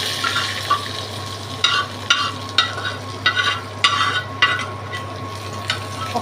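Tomato chicken ingredients fry in a wok with a low background sizzle, broken by repeated bursts of stirring and scraping at uneven intervals, close and moderately loud, no voices.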